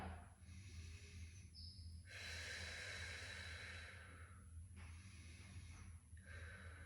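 A long, slow exhale during a deep piriformis hip stretch, a soft breathy rush of air that swells and fades over several seconds, close to the microphone, with no speech.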